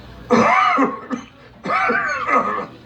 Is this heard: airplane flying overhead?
no